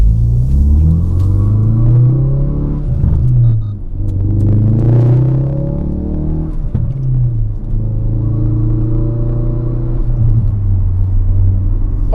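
A Ford Focus RS with an AWE Track Edition exhaust revs up with a deep rumble, drops briefly, and climbs again in a sustained half-throttle pull, loud and close.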